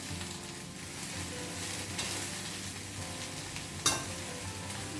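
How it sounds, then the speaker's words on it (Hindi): Okra (bhindi) frying on high flame in a pan, a steady close hiss of sizzling oil with one sharp clink partway through and no talking. "भिंडी को ना अच्छे से बढ़िया सा ब्लैक मतलब ब्लैक ब्राउन होने तक इसे फ्राई करना है"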